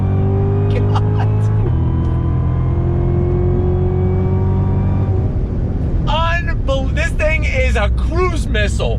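A Cadillac CTS-V muscle sedan engine pulls hard on throttle, a loud sustained drone with rising harmonic tones, then revving climbs in pitch; someone talks excitedly over the engine in the latter part.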